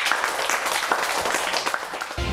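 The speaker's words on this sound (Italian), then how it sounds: "applauso" A studio audience on a televised football talk show claps steadily and fairly loudly for a couple of seconds, with a brief cut at the end.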